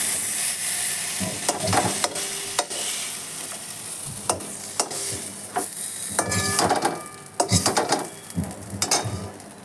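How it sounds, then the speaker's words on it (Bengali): Boiled potato pieces sizzle in hot oil while a metal spatula scrapes and knocks against the pan in uneven bursts, close and fairly loud, with occasional utensil clinks and no speech. "সিদ্ধ আলু তো অল্প একটু ভাজলেই হবে।"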